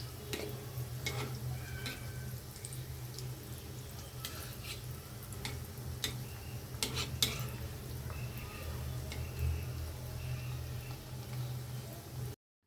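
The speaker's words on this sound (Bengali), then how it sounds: "এভাবে আমি কিছুক্ষণ সময় নিয়ে নাস্তাগুলো ভেজে নিব" Potato and chicken snacks deep-frying in oil, a steady low bubbling sizzle with faint scattered clinks of utensils throughout.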